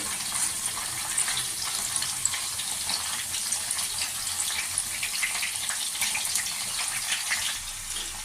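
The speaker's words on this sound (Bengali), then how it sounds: "এইদিকে আমি পনিরটাকে উল্টা পাল্টে ভেজে নিচ্ছি।" Paneer pieces frying in a pan give a dense, continuous hissing sizzle with fine crackles, steady and close for the whole stretch.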